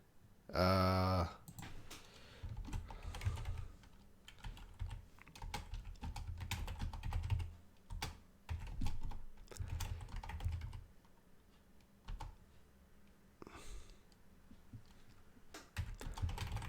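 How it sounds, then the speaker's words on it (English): Close computer keyboard typing clatters in uneven bursts of rapid key taps, with short pauses between, over a quiet background. "I'm typing here."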